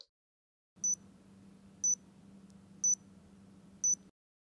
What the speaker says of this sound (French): La pompe patch émet 4 bips.